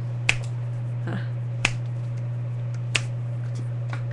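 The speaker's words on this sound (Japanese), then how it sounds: "じゃあ私の指抜きの音でも聞いてもらう。" Finger joints being pulled and cracked, three sharp isolated pops spaced about a second and a half apart over a steady low hum, close and quiet.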